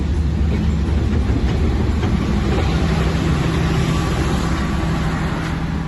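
A long train of 20-22 carriages rumbles past in a steady, loud roar of wheels and carriages that continues without pause.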